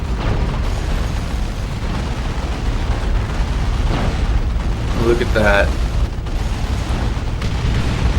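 Ork Mega Rumble ability in a Warhammer strategy game: heavy, continuous rumbling explosions and booming blasts fill the whole clip, with someone briefly speaking over the din.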